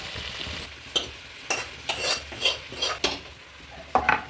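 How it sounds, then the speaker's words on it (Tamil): Ingredients for a village-style mutton kulambu sauté in oil, with a sizzling hiss. Repeated sharp scrapes of a spoon against the pan come roughly every half second, close up and without talk. "இது எல்லாமே அப்படியே எண்ணெயிலே கொஞ்சம் வதங்கட்டும்"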